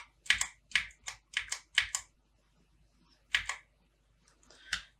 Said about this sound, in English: You press W on your keyboard, then get back by still pressing the W key.